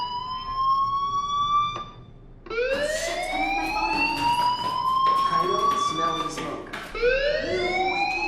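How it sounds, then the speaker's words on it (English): Fire alarm in the video game Life Is Strange, a loud repeating electronic siren with rising, sweeping tones that pauses briefly and then resumes, blaring steadily throughout. "do you hear that fire alarm? That means you should be outside."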